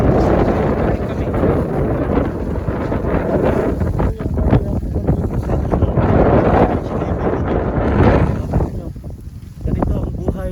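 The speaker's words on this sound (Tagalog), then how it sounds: "Lakas ng hangin ah." Strong wind buffets the microphone in loud, continuous gusts in Saudi Arabia, with voices faintly audible underneath.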